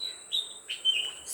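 Small birds around a home garden give a few short, high chirps, thin and fairly clear against a quiet background, with no one talking.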